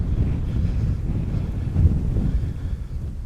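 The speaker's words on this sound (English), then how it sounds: "it's really windy today" Loud, steady wind buffeting a microphone on an inclined path at Wingland Marsh, Terrington St Clement, a continuous low rumble with no voices.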